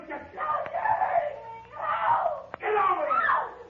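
Anguished female screaming in an old-time detective radio drama, two long wailing cries separated by a brief pause and a sharp knock, loud and close with a faint hum underneath.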